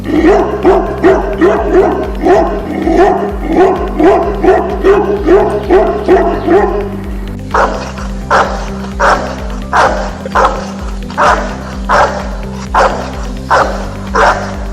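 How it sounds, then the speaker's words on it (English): A Tibetan Mastiff and a French Mastiff (Dogue de Bordeaux) bark loudly and close by: a fast, regular series of deep barks, then a second run of heavier, more spaced barks after a brief shift. "Powerful and loudest bark? Let's hear it first and we'll decide accordingly."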